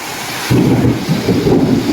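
Steady heavy rain hisses throughout as a deep rumble of thunder rolls in partway and lingers underneath.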